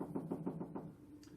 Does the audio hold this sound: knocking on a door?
yes